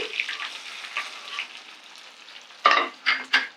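Mustard seeds, cumin, dried chilli and garlic hit hot oil for a nugge soppu tovve tempering, giving a soft crackling sizzle that jumps into a few sharp, louder bursts near the end.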